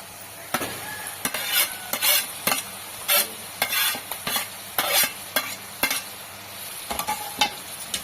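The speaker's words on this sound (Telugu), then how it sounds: "ఇప్పుడే ఈ టమాటాను వేసేసుకుంటున్నాను." Tomatoes sizzle and fry in a pan for omelette curry, with about a dozen sharp, rhythmic scraping stir strokes over a constant loud crackle.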